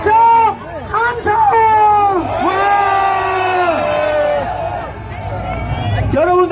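A large crowd roars and cheers at a presidential campaign rally for Nam Jae-joon at COEX. Many voices shout together, loud and close, and the sound swells and holds steadily for several seconds.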